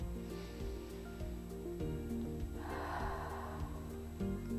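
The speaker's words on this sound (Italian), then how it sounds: "fuori dalla bocca con un soffio." A soft, breathy exhale out through the mouth rises and fades over about a second during a relaxation breathing exercise, near but gentle beneath steady background music.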